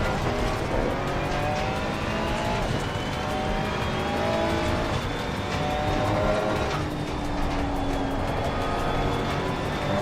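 A GT3 race car engine in Assetto Corsa Competizione screams steadily through the gears, pitch climbing and dropping with shifts, loud and continuous with other cars buzzing around it.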